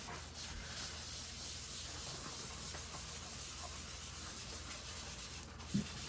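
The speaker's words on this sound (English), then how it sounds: "Just take a clean paper towel I haven't used and go back through, wipe everything off to get any of the excess off of the board." Paper towel rubbed across an oiled wooden cutting board to wipe off excess oil, giving a steady, soft, close hissing rub throughout with one small knock near the end.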